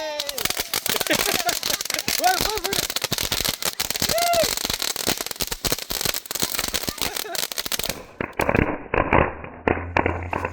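Double flash gun firecrackers go off for Diwali in a rapid crackling barrage of sharp pops and whistles, loud and close. The bursts stop abruptly near the end, leaving quieter sound.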